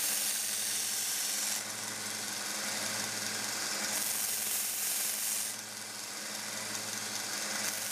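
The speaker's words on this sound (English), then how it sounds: "I started with a 120 grit belt to try to get below the gouges." A belt sander with a 120 grit belt grinds the blade of a Camillus TL-29 pocket knife, producing a loud, steady motor drone with harsh hissing abrasion that swells and eases as pressure changes.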